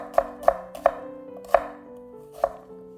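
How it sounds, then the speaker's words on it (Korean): A knife chops through half a small onion on a cutting board in five crisp, sharp strokes with uneven gaps between them, close and clear, with no talking. "양파는 작은 걸로 반 개를 채 썰어두고요."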